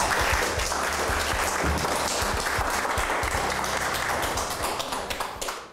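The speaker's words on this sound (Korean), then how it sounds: "선생님을 큰 박수로 맞이해 주시기 바랍니다" A packed library lecture hall breaks into applause to welcome a guest lecturer, a full, steady wave of clapping from a large crowd that tapers off near the end.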